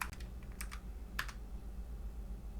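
Code being typed on a computer keyboard for an Android file explorer app: soft, irregular key clicks in small clusters over a quiet room hum, close and fairly faint.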